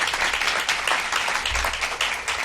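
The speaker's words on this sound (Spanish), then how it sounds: "un gran aplauso" Conference audience in a market hall applauding steadily, dense clapping from a large crowd filling the room evenly throughout.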